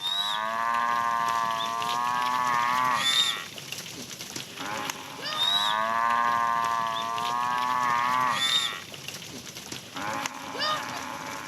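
Cattle low in a Namibian village, with long, loud, drawn-out moos repeating in several overlapping calls, close by and separated by short quieter gaps.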